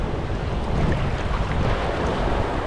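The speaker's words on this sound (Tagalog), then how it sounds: "Laki ng mga alon na." Loud, continuous rushing of ocean surf with heavy wind buffeting the microphone, a dense roar with no break.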